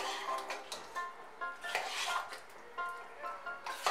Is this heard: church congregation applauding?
no